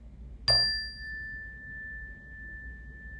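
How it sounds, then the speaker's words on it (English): A meditation bell is struck once with a bright attack, and a long pure tone rings on and slowly fades across several seconds in quiet surroundings. "allowing the sound of the bell to begin our meditation"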